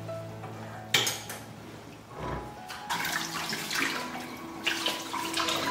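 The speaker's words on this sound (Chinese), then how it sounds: "骨头焯好了之后呢，我们再给它清洗干净" Blanched pork bones being rinsed clean under a running kitchen tap, water splashing steadily into a sink with occasional clinks of bones against the basin, close and continuous with no talk.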